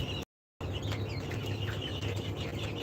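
Tiger breed chickens, 47-day-old pullets, clucking softly in a low, busy farmyard murmur with scattered short calls, faint overall and broken by a brief dropout near the start.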